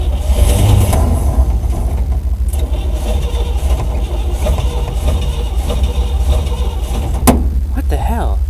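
Cold 1955 Chevrolet dump truck engine cranking and catching, a loud steady rumble that runs throughout with a sharp clank near the end, voices talking over it.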